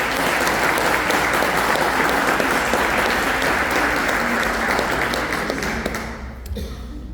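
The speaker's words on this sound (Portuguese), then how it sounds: "Dê uma salva de palmas à palavra de Deus." A church congregation gives a loud, close round of applause during a sermon, dense clapping sustained for about six seconds before thinning out and trailing away.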